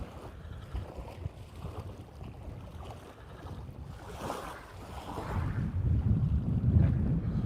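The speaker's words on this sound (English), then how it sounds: "So that's just wind." Wind blows across the microphone out on a lake, with low rumbling gusts and some water movement, building louder toward the end; no talking.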